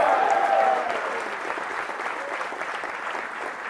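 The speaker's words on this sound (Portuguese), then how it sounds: "dá um glória e aplaude para esse Deus" A church congregation applauds in praise, a steady wash of clapping that starts strongest and gradually eases, with no talk.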